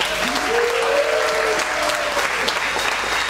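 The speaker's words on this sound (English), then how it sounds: "A big round of applause for Maxine Pink." An audience at a panel event claps in a dense, sustained round of applause, with a brief whistle-like tone rising above it early on.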